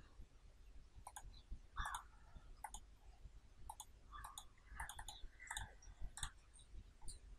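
Quiet, sharp computer mouse clicks come in an irregular scatter while working in CorelDraw, some in quick pairs, over a low hum with no voices.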